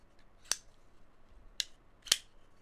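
A Vosteed Ankylo button-lock folding knife with ceramic bearings and aluminum scales snaps open in three crisp, quick zipping clicks, spaced apart and fairly close in an otherwise quiet setting.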